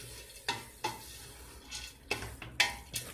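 Onions sizzle gently in a pot while a utensil scrapes and knocks against it in irregular strokes, close up and fairly quiet.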